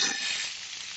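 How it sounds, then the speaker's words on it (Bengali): Boiled vegetables frying in a pan for fried rice, a brief, steady, close sizzle with no talking. "তো আমি সেদ্ধ করা সবজিগুলো এবার ভেজে নেব ভালো করে।"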